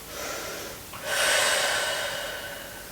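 Close breathing held in warrior 2 yoga pose, a soft inhale followed by a longer, louder airy exhale, steady and alone.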